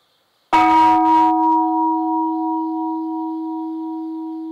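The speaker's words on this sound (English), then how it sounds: "One of the Zen students sounds a wake-up bell." A single wake-up bell in a Japanese Zen monastery struck once, loud and clear, its deep tone ringing on and slowly fading.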